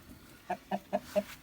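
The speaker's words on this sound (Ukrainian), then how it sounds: "а в нас по яєчку сидить курочка" A backyard hen sitting on an egg gives four soft, evenly spaced clucks, close and fairly quiet against a faint background.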